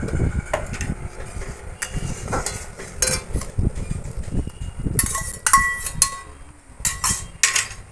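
A spoon stirs papaya paste and milk in a pan. There is steady scraping, with bright clinks of the utensil on the metal that cluster toward the end.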